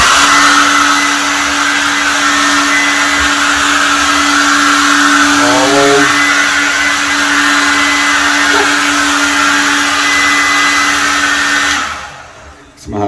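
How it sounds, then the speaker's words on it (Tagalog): Hair dryer blowing after a shower, a loud, steady whirring blast with a constant pitched hum that runs for about twelve seconds before cutting off abruptly. "ayan, magbo-blower naman ako."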